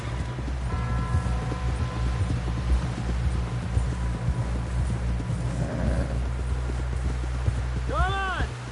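A horse clip-clops along at a steady gait in Red Dead Redemption 2, rhythmic hoofbeats under game music and voices talking, with a brief whinny near the end.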